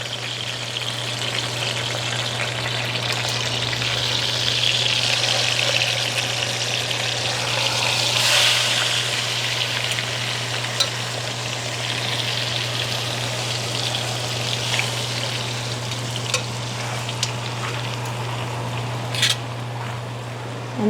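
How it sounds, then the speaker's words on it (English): A giant piece of pork searing in a pot that barely holds it, producing a continuous dense sizzle and spatter under a steady low hum, with no talking. "I'm going to let that sit for another 5 or 6 minutes to get the other side nice and seared"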